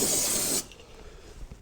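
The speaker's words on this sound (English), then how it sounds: "I'm going to spray the frame over there." Spray hisses onto a vehicle frame in one steady, loud, close burst lasting about half a second, then cuts off abruptly, leaving faint workshop noise and a few soft knocks.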